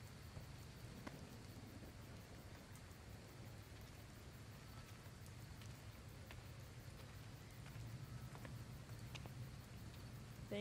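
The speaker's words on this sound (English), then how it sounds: "It's just perpetually raining here." Steady rain in the video game Gotham Knights, a continuous wash of drops with a low rumble beneath, even and moderately loud throughout with no talking.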